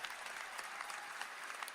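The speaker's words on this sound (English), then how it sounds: "clap it up for Pablo the One" Quiet, steady crowd applause at a beat battle season finale, a continuous wash of many hands clapping, heard faintly and evenly throughout.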